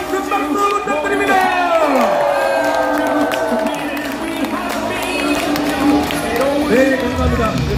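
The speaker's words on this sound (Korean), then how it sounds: "여러분 큰 박수 부탁드립니다." A crowd at a political speech applauds and cheers in a sustained wave, with whoops and voices rising over the clapping.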